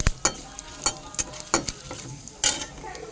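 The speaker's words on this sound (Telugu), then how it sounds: "నూనె కొంచెం హీట్ అయిన తర్వాత జీలకర్ర, శనగపప్పు, మిర్చి అన్నీ వేసేయండి." Cumin seeds, chana dal and chillies fry in hot oil, a soft sizzle under repeated scraping clinks of a metal spoon stirring the pan at close range.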